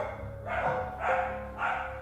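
Dogs bark in three muffled bursts, heard somewhat distant and at a moderate level.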